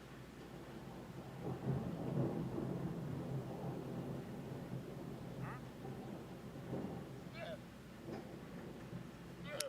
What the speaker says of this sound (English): Oh, we got a lightning strike